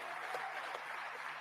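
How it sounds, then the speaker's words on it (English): Audience applause at the Africa Climate Summit at KICC in Nairobi, a steady wash of clapping sustained throughout at moderate distance, filling the hall evenly. "Let's put a round of applause for her."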